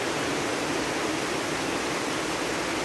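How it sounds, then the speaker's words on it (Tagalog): Heavy rain pours down steadily outdoors, a dense, even roar of water with no breaks, fairly loud and uniform throughout. "Ang lakas ng ulan"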